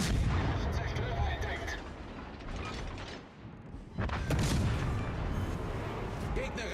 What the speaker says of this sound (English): Well, I guess I can shoot my guns, right?